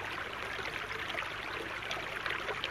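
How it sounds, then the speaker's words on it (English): Creek water rushing steadily at Cairn Creek, a continuous broad hiss of flowing water heard close and alone, with no talking. "Man, you hear that creek?"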